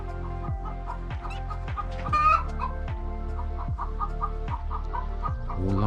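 Chickens cluck steadily in a greenhouse used as a chicken house on a farm, a dense close chorus of repeated clucks with a few louder squawks over a constant low hum.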